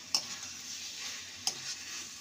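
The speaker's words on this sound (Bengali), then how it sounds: "ভালো করে মিশিয়ে নেব।" A vegetarian pumpkin and potato curry is stirred with a fried spice mix in a pan over a soft, continuous sizzle, punctuated by two sharp spoon knocks against the pan.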